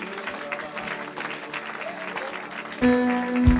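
Church congregation applauding and acclaiming during worship, a dense wash of clapping with a rising sustained tone and voices swelling near the end.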